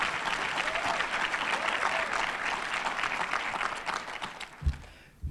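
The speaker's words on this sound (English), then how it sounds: "So let's give Keith a round of applause for what he's doing." An audience at the Who's Who in Black St. Louis event breaks into steady, dense applause that carries on for several seconds, moderately loud and without talk, before thinning at the end.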